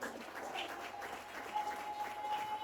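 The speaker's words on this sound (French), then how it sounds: "Acclamons la parole de Dieu, bien-aimé. Acclame fort." A church congregation clapping at a sermon service, a brief, fairly faint spread of applause with a sustained tone ringing through it, no clear speech.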